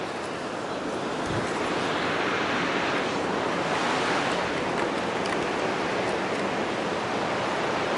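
The Crna Reka river rushes in a dense, continuous roar of flowing water in the Mariovo area of Macedonia. It is steady and fairly close, with a faint touch of wind.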